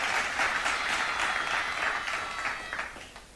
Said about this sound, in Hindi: जोरदार तालियां हो जाए बच्चों के लिए